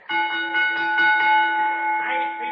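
Sustained bell ringing at an event before a match, a clear resonant tone with shimmering overtones that swells and holds for over two seconds, loud and close with no speech over it.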